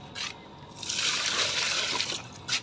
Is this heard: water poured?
yes